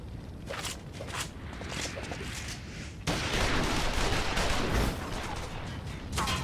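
Gunfire from imperial troops in Final Fantasy XIV Stormblood fills a battle scene as a dense barrage of shots, with footsteps mixed in, and it grows louder and heavier partway through.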